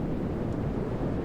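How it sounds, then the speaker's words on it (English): Gusty outdoor wind buffeting the microphone, a steady low rumble of broadband noise that stays loud and unbroken throughout. "Freaking windy out here."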